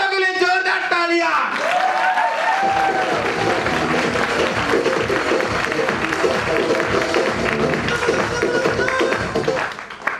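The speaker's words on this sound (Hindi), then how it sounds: "एक बार दिल्ली वालों के लिए जोरदार तालियां।" Loud applause at a ChampCash seminar in Delhi, a full crowd clapping steadily right after a speaker's voice, with a few whoops mixed in and the clapping tapering at the end.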